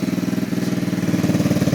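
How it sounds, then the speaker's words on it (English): A BD125-2 125cc cafe racer motorcycle idles just after starting. Its small engine gives a steady, close, even putter of rapid thumping pulses, much like a little lawnmower. "Sounds like a little lawnmower, but it's not bad."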